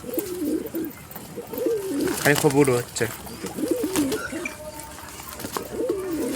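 Pigeons coo in soft, repeated throaty bursts close by, interleaved with a person talking and calling to them; one louder fluttery coo stands out midway.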